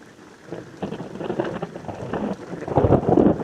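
Monsoon rain pours down steadily while low thunder rumbles through it, the downpour swelling louder and heavier toward the end, with no voices.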